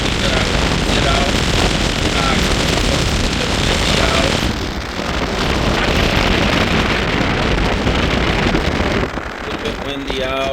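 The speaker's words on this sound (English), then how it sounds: "a little bit windy out" Gusty wind at 27 degrees in Kensington Metropark in February roars against the microphone almost nonstop, loud and broadband, easing briefly near the end.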